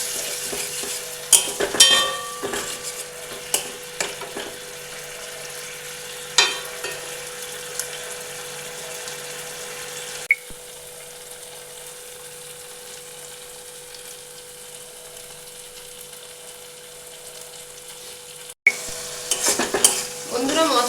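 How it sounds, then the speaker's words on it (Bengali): Masala spices are stirred and fried in oil over a very low gas flame for a paneer and cauliflower dish. A steady close sizzle runs under intermittent spoon scrapes and clinks, which go quiet for a stretch before resuming. "মশলাটা 5 মিনিট ধরে কষেছি, তেল ছাড়া ছাড়া হয়ে গেছে"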